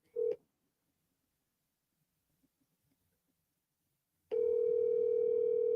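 Ringback tone on an outgoing phone call, a short steady burst near the start, then quiet, then a loud sustained ring tone that runs on to the end.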